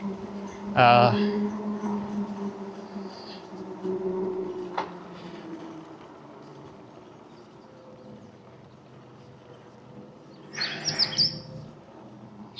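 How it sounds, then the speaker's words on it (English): A bird calls in a lakeshore park in Roane County, Tennessee, with two brief bright bursts of chirping, one early and one near the end, heard during an e-bike ride with someone talking and wind noise throughout. "Kind of bird there."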